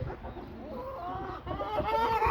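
Young chicks on a farm cluck and peep close by in a short, continuous burst of soft calls, with no talking.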